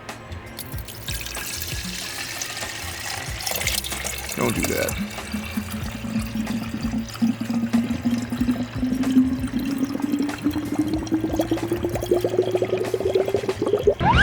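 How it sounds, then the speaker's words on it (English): Tap water from a faucet runs steadily through a hose into the heater core of a 2014 VW Passat TDI during a flush. The hiss holds at a constant level and then rises slowly in pitch as it fills, with someone speaking briefly. "let's put some water in here. Faucet."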